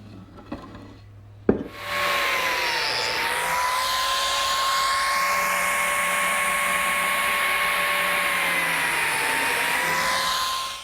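A biscuit joiner cuts slots into a cherry face frame: a sharp click starts a loud, steady, high whine that holds for several seconds, dips briefly near the end, and carries a rough, grinding edge.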